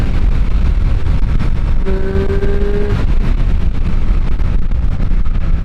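A Triumph Street Triple 765 RS Moto2 Edition runs in sport mode at full throttle in third gear, a loud continuous engine roar with a rising tonal whine and constant rush of wind.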